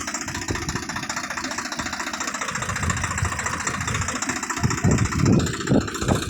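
A Swaraj tractor engine runs at idle during farm work, giving a steady mid-pitched chugging hum with slight knocking. It sits fairly close and grows louder with rougher pulses toward the end.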